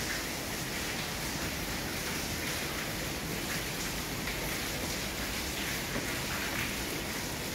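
Heavy monsoon rain pours steadily in Vadodara, a dense, unbroken hiss of falling water at constant loudness with no pauses or voices.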